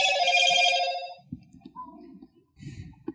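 A telephone rings loudly with a rapid warbling electronic trill for about a second, then cuts off, leaving a few faint clicks and low background voices murmuring on a talk show stream.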